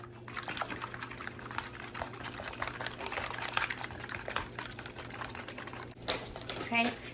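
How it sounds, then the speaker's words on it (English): Six cracked eggs with salt and pepper being whisked in a bowl, a rapid, steady rhythmic tapping and sloshing that runs throughout at close range, fairly quiet under a low background hum. "Now, you're gonna get you 6 eggs, crack them, salt and pepper. We're gonna whisk them up."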